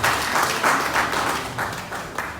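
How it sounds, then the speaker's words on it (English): An audience at a political campaign event in Nigeria gives a steady round of applause, a dense wash of clapping lasting about two seconds, with no talk over it. "Let's give him a round of applause."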